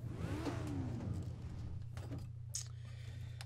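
A racing kart engine in the video game Project Cars sputters and revs into life with a steady low drone underneath, followed by brief whirring and clicking bursts, heard alone without talk.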